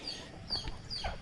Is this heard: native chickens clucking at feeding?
yes